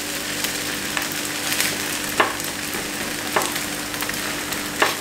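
Sweet coconut boli flatbread cooking on a hot pan after being flipped, giving a steady low sizzle with a few sharp scraping or tapping clicks at intervals, heard up close without talk.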